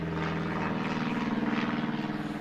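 Low-flying small prop plane passes close overhead outdoors, engine droning loudly with a pulsing propeller rhythm that swells slightly midway; no voices.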